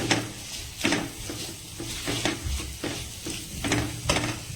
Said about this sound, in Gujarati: ત્યારબાદ આપણે મિક્સ કરી લઈએ